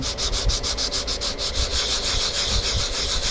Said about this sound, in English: I'm going to take my sanding block and just sand down.